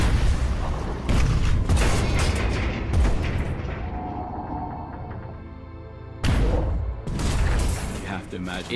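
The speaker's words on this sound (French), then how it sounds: "Le son des grenades qui se réverbèrent dans l'eau, le choc de l'impact sur la coque qui tremble" Underwater depth charges detonate near a diving World War II submarine as deep, heavy booms with reverberating rumbles. Several blasts arrive in a cluster, then a quieter lull, then another strong impact, with a voice speaking over them.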